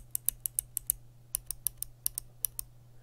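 Clicky Box White mechanical keyboard switches typed at a steady pace give sharp, crisp clicks, about sixteen quick taps in a row, fairly quiet and close. A low steady hum sits underneath, with no talk.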